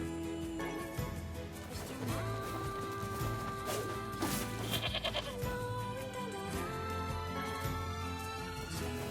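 Sheep bleat repeatedly in NieR Replicant over a busy game soundtrack with music and crashing effects, the bleats fairly loud and mixed into the steady backdrop.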